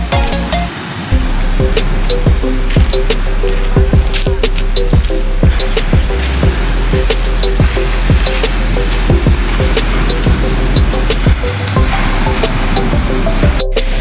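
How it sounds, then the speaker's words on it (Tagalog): Sea waves breaking steadily along the shore at Karihatag, Surigao del Norte, a loud, continuous wash of surf with repeated crashing surges, close and without talk. "Ang sarap pakinggan ang huni ng mga alon dito sa dagat ng Karihatag, Surigao del Norte."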